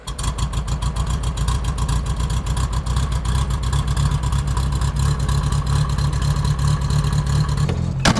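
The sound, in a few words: 1968 VW Bug engine starting with new exhaust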